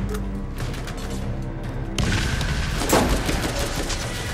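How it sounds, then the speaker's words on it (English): Grenade blast and rapid gunfire in the video game Borderlands, a dense, loud barrage of shots that swells into a heavier burst halfway through, with no talk over it. "Oh, he threw a grenade."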